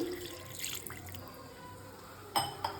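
Water is poured from a vessel into a mixer grinder jar while making egg pulusu, a brief quiet trickle and splash followed by a couple of sharp clinks near the end.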